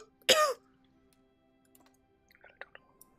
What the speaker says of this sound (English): I just have ridiculous coughing fits here.